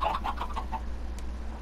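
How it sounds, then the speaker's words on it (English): Chickens cluck in a Minecraft egg farm, a short run of quick, close clucks at the start followed by a quieter stretch. "You get to have chickens."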